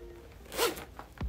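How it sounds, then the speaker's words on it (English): A short zipper pull on a Chanel leather handbag, a quick rasping zip followed by a brief tug, close by. "Zipper still sounds great."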